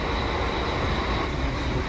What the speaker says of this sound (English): So this is our train going to Füssen.